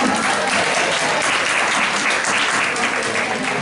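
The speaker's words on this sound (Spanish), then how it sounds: "¡Bravo! Un aplauso aquí para..." An audience at a university-led course-workshop in Cholula, Puebla breaks into steady, dense applause, loud and sustained for the whole moment with no pauses.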